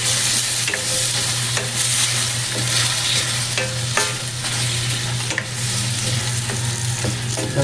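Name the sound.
stirring chicken adobo in a pan after adding vinegar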